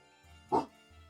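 A single short bark-like burst, most likely a human voice imitating a dog, sounds once in a quiet spot and then stops.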